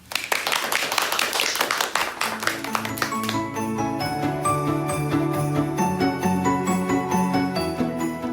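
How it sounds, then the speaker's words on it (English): A round of applause at the close of a sleep science podcast's Christmas Q&A, with a couple of seconds of dense clapping that then gives way to a bright, tinkling jingle melody carrying on to the end. "maybe we can just have a round of applause"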